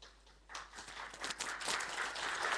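Audience applause at a DNSSEC tutorial, swelling from quiet to a steady, dense patter of many hands clapping, continuing to the end.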